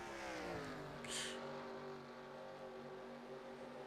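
Next-gen stock race car engines roar in a racing video game, a steady droning multi-car engine note holding loud and continuous with slight pitch shifts, no voices over it.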